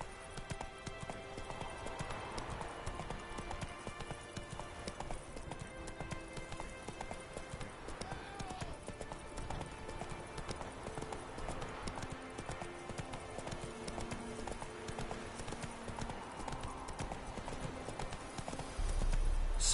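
Hooves clip-clop in a steady, fast galloping rhythm as a horse runs in The Witcher 3 video game. The sound is continuous, moderately faint and backed by a light game soundscape, with a brief louder thump at the end.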